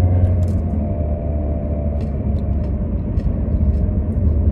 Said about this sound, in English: there's a freaking truck and trailer probably gonna slow me down